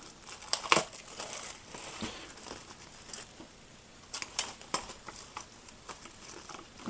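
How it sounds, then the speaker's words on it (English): Foil packet of a Panini Confederations Cup Brazil 2013 sticker collection magazine being torn open, with scattered crinkling and a few sharp rips over a quiet background, close and moderately loud. "let's get the magazine open and the little sticker collection"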